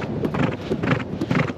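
A horse being ridden at a quickening pace: clear, rhythmic clip-clop of hooves, close and fairly loud, with some wind buffeting the microphone.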